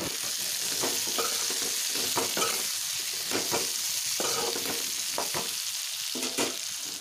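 Brinjal fries in a wok with onion and turmeric, a steady close sizzle broken by repeated scraping and stirring knocks, with no talking.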